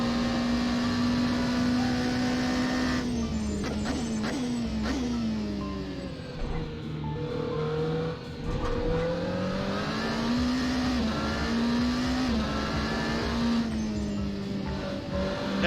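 Scuderia Glickenhaus SCG 007 twin-turbo V8 in Assetto Corsa: a steady, loud engine drone that rises and falls with revs through corners, with shifts and brief dips, heard alone.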